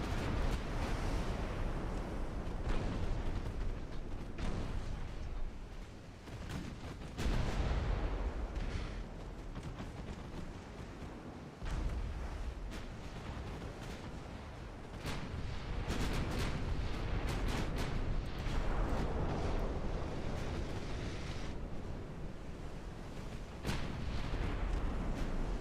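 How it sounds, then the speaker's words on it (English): Ten 13-inch naval guns fire repeatedly in a video game battle, heavy booming blasts and rumbling bursts rolling one after another across the whole stretch, loud and dense with no talk. "Give the full might of the American firepower, boys. All 10 13-inch guns."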